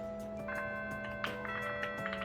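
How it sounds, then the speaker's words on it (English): A school bell chime in Persona 3 Reload rings out as sustained, bright tonal notes layered together, a steady ringing tone held for a couple of seconds with no speech over it. "The first bell has rung."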